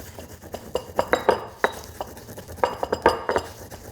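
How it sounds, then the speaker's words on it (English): Spices ground in a mortar and pestle, a series of sharp clinking knocks and scraping grinds in uneven bursts, close and fairly loud with no talk over them. "So I'm adding those to a mortar and pestle, and I'm just gonna grind those up."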